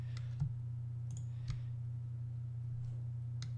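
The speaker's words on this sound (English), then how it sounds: "You just hold Control and press click" A computer mouse clicks a few times, sharp and close, scattered over a steady low electrical hum.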